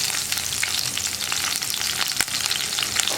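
Potato pieces frying in oil for a potato masala curry, a dense, continuous crackling sizzle at close range with no other sounds.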